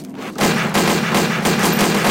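Gunfire in the video game Counter-Strike: Source: after a brief quiet moment, loud, sustained rapid shooting runs on without a break, with close, dense reports.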